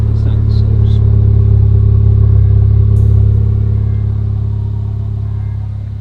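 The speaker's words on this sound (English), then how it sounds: "he's gonna give us a little demonstration on how the exhaust sounds" A car fitted with an HKS Lego Max Premium exhaust runs loud and close with a smooth, deep, steady rumble. The drone holds nearly constant throughout and eases slightly toward the end.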